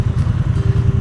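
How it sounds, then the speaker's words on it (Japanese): A Triumph Bonneville Bobber's side-mounted muffler burbles close and loud, a rapid low pulsing exhaust thump at steady idle-like rhythm over one second. "マフラーが横から出てるからマフラーの音がすごいよく聞こえるんですよ。"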